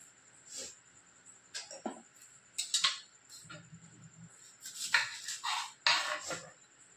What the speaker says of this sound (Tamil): ஒரு கேரட், 2 முட்டை, அதுக்கப்புறம் ஒரு பச்சை மிளகாய் எல்லாத்தையும் கட் பண்ணிடணும்